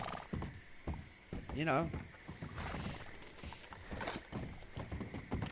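A horse in the Red Dead Redemption video game clip-clops steadily along with rhythmic hoof beats and a brief whinny, under someone talking.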